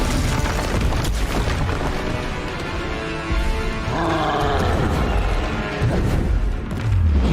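A booming Bombarda spell explosion from the Hogwarts Legacy video game, set in a loud, continuous wash of rumbling battle effects with no talking.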